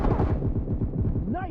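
Rapid gunfire in a shooting video game, several sharp shots in quick succession over a dense, echoing backdrop, with a short whistling tone near the end.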